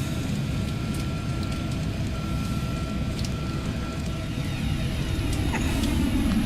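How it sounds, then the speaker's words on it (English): Jet thrust reversers on a Cessna S550 Citation II in the Prepar3D flight simulator give a steady, loud, broad roar with a low rumble and faint high whine, holding level throughout and building slightly near the end. "Accidentally turned on reversers again."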